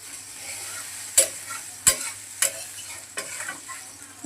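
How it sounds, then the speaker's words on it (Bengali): Water meets frying spice masala for a fish curry, giving a steady close hiss with a few sharp crackles and pops spaced across the few seconds, no voices. "এখন দিয়ে দেব পরিমাণ মতন জল"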